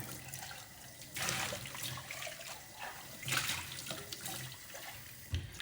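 Tap water runs into a kitchen sink while a milk container from a JURA milk cooler is rinsed and scrubbed clean with a little soap, a steady splashing wash that swells and dips as the container shifts under the stream.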